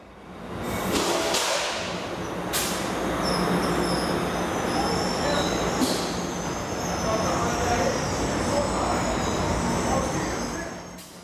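An Amtrak Pacific Surfliner rolls in along the Union Station platform with a steady rumbling roar, high wheel squeals and hissing bursts, loud and sustained throughout.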